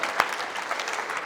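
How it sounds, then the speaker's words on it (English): Brief burst of audience applause at a 2024 sales and AI keynote conference, greeting a speaker with a quick, dense patter of clapping from a crowd in a hall. "Can we give another round of applause for Nate?"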